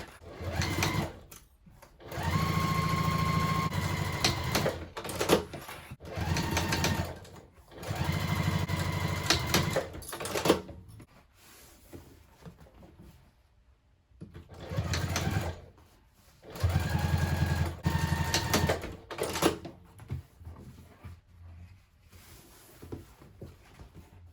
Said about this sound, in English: then we're going to go ahead and sew at a 1/2 inch seam allowance